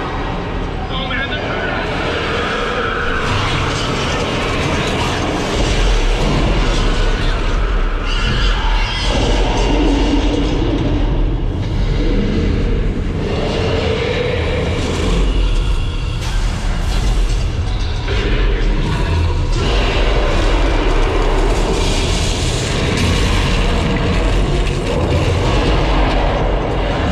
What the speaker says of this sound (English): Just be careful of trams coming through, okay?